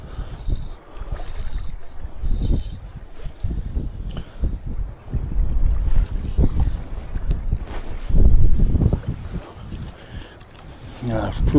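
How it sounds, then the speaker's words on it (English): Wind buffets the microphone on a boat while fly fishing for pike, a gusty, uneven rumble rising and falling throughout, loudest near the end, with faint water sounds and someone talking over it. "it's proving a little bit more difficult now with that wind"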